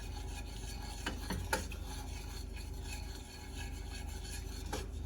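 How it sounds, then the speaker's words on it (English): Gelatin glaze for hot cross buns is stirred slowly in a pan over low heat, producing a soft, continuous rasping scrape with a few light taps of the spoon against the pan. "Just stirring till it all dissolves together."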